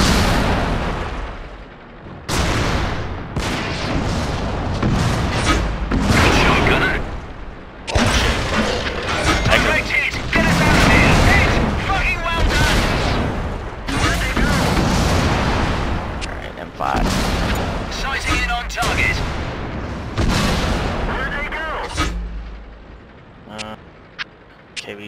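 Tank cannon fire and explosions from a World of Tanks random battle boom repeatedly and loudly in dense bursts, with voices talking over the battle.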